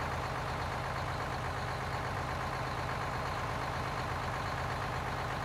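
A garbage truck engine runs steadily and close by, a continuous low rumble with a broad hum that keeps the same level throughout, with no voices.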